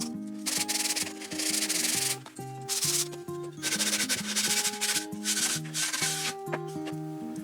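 Steady back-and-forth scraping of sandpaper on the fuselage of a quarter-scale Nieuport 17 model aircraft, in repeated strokes with brief pauses between them, close up and fairly loud, with no voices.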